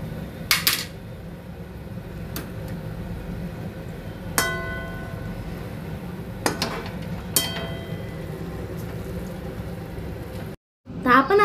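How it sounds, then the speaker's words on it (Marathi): Ghee being stirred into Maggi noodles in a pan, with a utensil scraping and clinking against the metal in a few sharp taps over a steady low cooking hiss. "आपण आता त्याला मिक्स करूयात."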